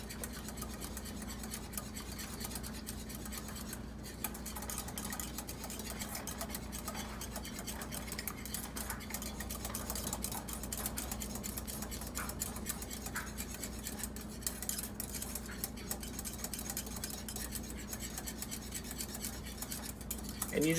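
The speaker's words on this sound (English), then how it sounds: "And you just want to stir until it gets really nice and thick" Gravy is stirred in a pan for a beef roast dinner, with continuous close scraping and rubbing of a utensil against the metal, steady throughout with no talking.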